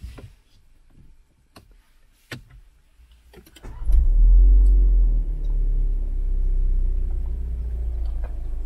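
A chipped VW Polo GTS in sport mode with the S transmission setting launches hard from a standstill: after a few faint clicks, a loud, deep engine roar bursts in and holds strong as the car accelerates.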